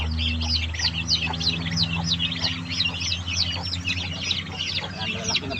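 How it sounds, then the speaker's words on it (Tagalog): A group of ten turkey chicks peeps continuously, their shrill, rapid cheeps repeating in a lively rhythm close by, with a faint low hum underneath. "Bali 10 piraso po itong pabo ko na sisiw."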